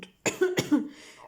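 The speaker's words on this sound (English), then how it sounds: "this cough's been around" A lingering dry cough from someone with a dry throat, heard as a few close, sharp bursts in quick succession, followed by a short throat-clearing sound.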